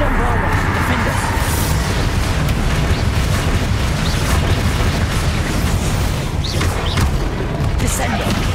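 In a Harry Potter video game, the Bombarda spell sets off dense, continuous explosive booms and rumbling blasts. Game voices speak over the din throughout.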